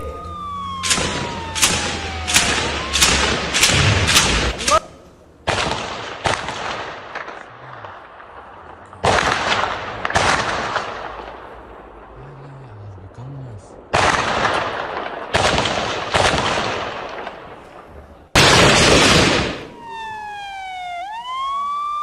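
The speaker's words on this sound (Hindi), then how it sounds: "आईडीएफ की तरफ से भी दागे जा रहे हैं गोले।" Heavy gunfire and shelling from fighting between Israeli forces and Hamas in Gaza, with loud repeated bursts and sharp blasts in clustered volleys, separated by short gaps and ending with a wailing siren.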